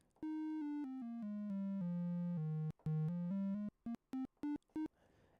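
A mellow triangle-wave tone from a synth built in Ableton Live, with a soft, hollow edge, plays a descending melody of sustained notes, then ends with several short staccato notes.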